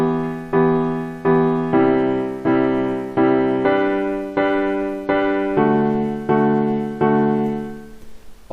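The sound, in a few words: lead melody played on electric piano in FL Studio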